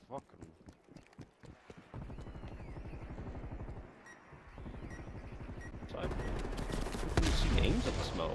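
Bursts of rapid gunfire in the Call of Duty Double Agent mode, building from scattered shots into sustained loud automatic fire, heard under a player's voice talking.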